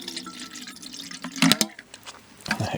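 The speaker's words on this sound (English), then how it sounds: "Another nice thing I like about that kettle is that it just pours well too." Water pours from a kettle during a stealth camping trip, a close splashing trickle broken by a few brighter bursts and drips, with no talk.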